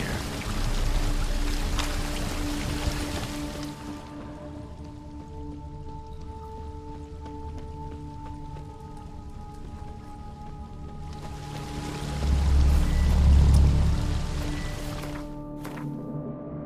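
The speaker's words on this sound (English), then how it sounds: "Waterfall flowing upwards." A waterfall flowing upwards in The Witcher 3: Blood and Wine makes a steady rushing, pouring wash that dips quieter midway and then swells louder again, under a low, sustained ambient tone.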